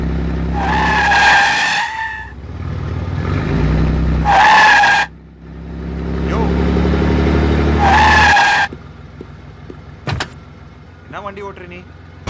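A car drives and skids in a horror film scene, with several loud, drawn-out tire squeals of rising pitch separated by engine noise, followed by short knocks and clatter as it settles.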